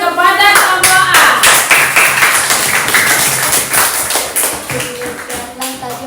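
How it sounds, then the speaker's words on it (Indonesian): Applause in a classroom for a group presentation, a loud burst of many hands clapping nearby that keeps going for several seconds and then slowly thins out. "Beri tepuk tangan kepada kelompok A."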